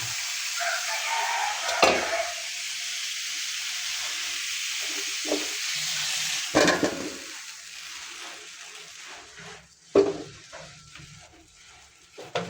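Cauliflower fries in a pan for a catla fish curry with potato and tomato, a close sizzle and hiss broken by occasional sharp stirring scrapes and bursts, easing to quieter stretches in between.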